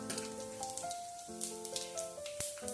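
Mustard seeds pop and crackle in hot oil with a quiet, uneven patter of small sharp bursts, set under soft background music.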